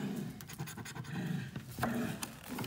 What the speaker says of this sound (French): C'est les chiens qui jouent ensemble,